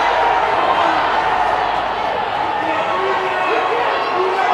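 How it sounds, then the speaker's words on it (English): A hockey crowd roars loudly and continuously at a District 8 playoff game against Lakeville North, a dense, sustained wall of cheering and shouting filling the arena with no letup across the few seconds. "Crowd is losing their mind."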